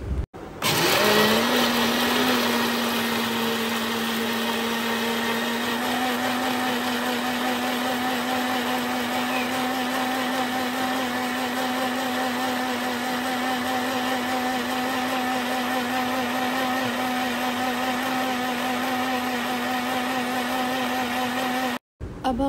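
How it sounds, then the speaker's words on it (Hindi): An electric blender runs steadily in its mixing jar, whirring loud and continuous for about twenty seconds as it blends caramel pudding batter, then cuts off abruptly at the end. "इन तमाम चीज़ों को हम जो है वो मिक्सिंग के जार में डालेंगे और इसे अच्छी तरीके से जो है वो ब्लेंड कर लेंगे"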